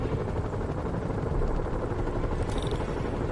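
A loud, continuous video game helicopter rotor thrum fills the scene with a dense, rumbling roar and no pauses.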